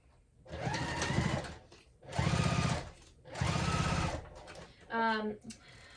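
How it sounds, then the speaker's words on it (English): A home sewing machine stitches a half-inch seam around the bottom and sides of a fabric wristlet clutch, running in three steady whirring bursts with pauses between, then a short slower run, close and alone. "we're just going to go ahead and sew all the way around"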